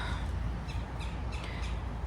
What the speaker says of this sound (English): There's more birds in the sky, in the trees